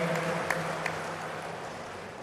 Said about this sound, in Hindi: एक बार जोरदार तालियों के साथ माननीय गृह मंत्री जी का स्वागत अभिनंदन करेंगे